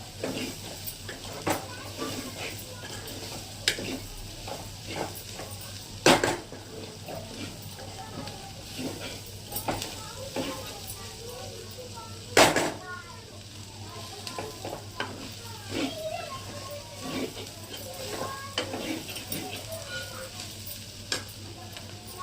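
Ivy gourd and coconut fry in a pan Andhra style, a low sizzle beneath frequent scraping strokes of a spatula and a couple of sharp clanks against the pan, close with no talking.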